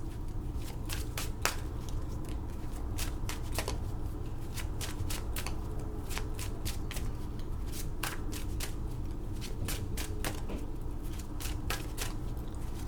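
Tarot cards being shuffled close up, a steady stream of crisp riffling snaps and soft slides repeating through the whole stretch, quiet and unaccompanied, with no talking.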